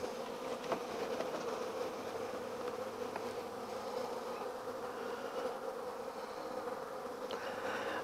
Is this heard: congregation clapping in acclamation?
no